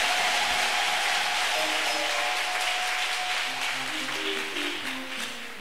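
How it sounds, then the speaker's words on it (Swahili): A church congregation claps together for Jesus, a loud, sustained round of applause close by, with faint sustained tones and murmuring beneath it that ease off toward the end. "Please clap for Jesus."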